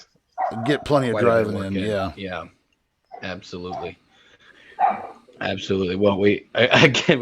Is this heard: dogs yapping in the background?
yes